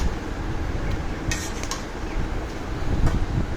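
Three kinds of mixed vegetables sauté in a hot pan, giving a steady, dense sizzle and hiss throughout. A few faint clinks of a utensil against the pan come through, and nobody speaks.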